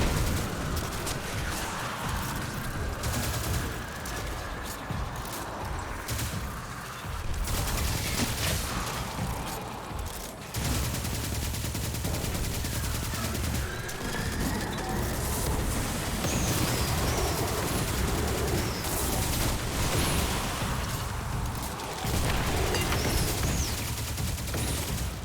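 SMG gunfire in a video game, long stretches of sustained rapid shooting and crackling bursts layered over continuous loud combat noise with brief dips.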